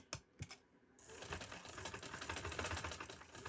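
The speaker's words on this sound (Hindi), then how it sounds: "ये देखिए इसी तरह इसको सिलाई लगानी है" Sewing machine stitching a neckline seam on a kameez, a quick run of rapid, steady needle clatter building after a brief pause, close and fairly loud with no talking.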